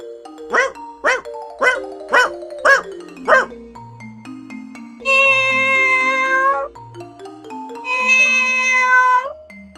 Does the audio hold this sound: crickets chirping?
no